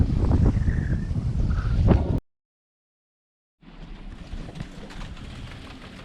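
Strong 15 to 20 knot northerly wind at sea aboard a sailboat, buffeting the microphone with loud steady roar and gusts, broken by a sudden dropout of about a second and a half before the blustery rush resumes.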